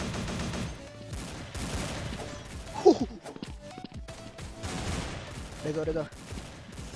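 Rifles fire in the Vietnamese first-person shooter Truy Kich, with quick bursts of close gunshots and scattered rounds amid footsteps and clatter, while someone talks briefly.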